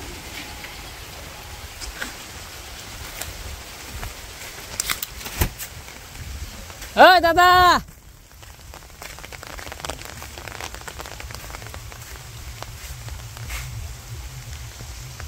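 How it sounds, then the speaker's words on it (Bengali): Rain falls steadily on a village outdoors, a soft continuous patter filling the background throughout, with a brief louder burst and a few bird calls mixed in; someone speaks briefly. "বৃষ্টি নেমে গেছে।"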